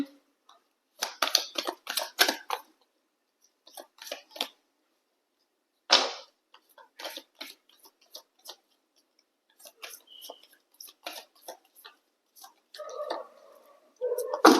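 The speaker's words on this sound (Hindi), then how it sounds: "मैं कर लेती हूँ कार्ड की शफलिंग।" Tarot cards being shuffled by hand: repeated crisp riffles and soft flicks in short uneven bursts, close and fairly quiet, separated by brief pauses.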